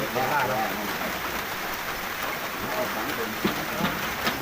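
Rain pours down steadily during a fishing trip, a loud broad wash of drops striking surfaces with a few sharper spatters near the end. Someone talks over it throughout.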